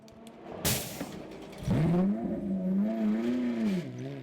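Red and yellow Oreca prototype race car engine at racing pace, a sharp rising whoosh of a pass followed by a loud sustained engine note that climbs and falls through the revs, close by with no talk.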